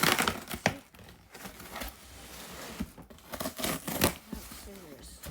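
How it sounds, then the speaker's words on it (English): Scissors cut open a package containing HP laser printer toner. Sharp snips and crinkling plastic or cardboard come in short bursts, while people talk nearby. "Scissors."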